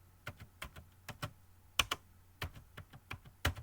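Keys clatter on a computer keyboard as a command is entered in a Linux terminal, a quiet, close run of uneven clicks with brief pauses and a couple of sharper taps.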